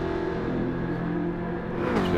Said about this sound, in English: Tag revving out a little bit further than what Moneyman is at the moment.